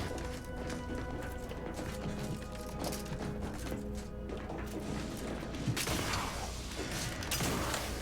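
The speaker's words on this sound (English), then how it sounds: "That's an elevator of some sort." Elevator machinery in The Outer Worlds 2: a continuous mechanical clatter and rhythmic clanking with creaks and a low hum, growing louder and harsher in the final seconds, with no speech.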